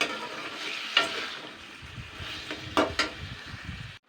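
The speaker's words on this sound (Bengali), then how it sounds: "এটাকে আমি ভালো করে পাঁচ মিনিট কষিয়ে নেবো আগে মাংসটা ভেজে নেবো ভালো করে" Meat browning in a pan with tomato and onion for a vegetable meat curry, a steady sizzle under scraping stirs, with a few louder clanks of the spoon against the pan near one and three seconds.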